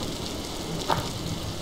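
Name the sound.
rain falling in the video game Block Story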